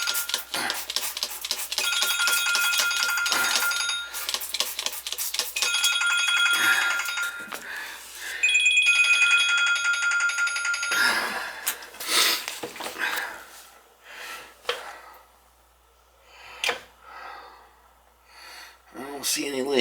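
A phone ringtone from an unknown caller chimes repeatedly in a kitchen with a newly installed natural gas stove, loud and close for about ten seconds, then fades as breathing and shuffling sounds follow.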